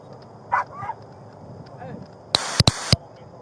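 A few short, sharp barks from a dog in a car ring out close by, preceded by softer yips and whines, with a faint background hum.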